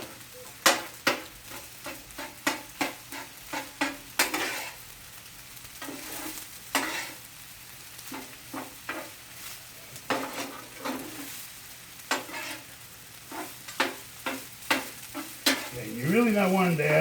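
Chicken fried rice being stirred and tossed in a hot pan, a close, steady run of sharp scraping strokes over a constant sizzle, repeating in quick rhythmic bursts with brief pauses between.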